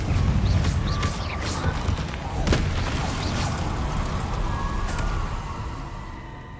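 In the game Hogwarts Legacy, a Confringo blasting spell fires as a loud burst with a booming impact near the middle, set against a dense rumbling backdrop that slowly fades out.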